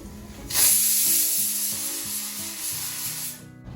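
Horse gram with slit green chillies and curry leaves sizzles in a pan on a stove, a bright hiss over soft, rhythmic stirring scrapes, close by and without voices.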